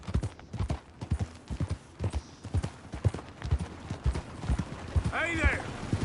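Steady clip-clop of horse hooves at a walking pace, fairly close, with a brief horse whinny near the end and faint voices in the background, in Saint-Denis in the video game Red Dead Redemption 2.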